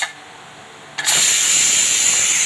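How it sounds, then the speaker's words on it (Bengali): A pressure cooker cooking goat meat lets out a loud, sudden steam whistle about a second in, a steady high hissing shriek that holds to the end after a quieter stretch. "জল দেওয়ার পর 4টে সিটি মেরে নেবো।"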